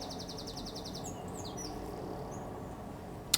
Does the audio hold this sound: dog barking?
no